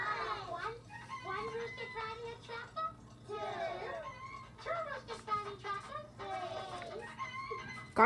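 Rooster crowing from an Elmo's World farm episode, several bright repeated crows with clucking fowl sounds, children's voices and chatter running underneath throughout.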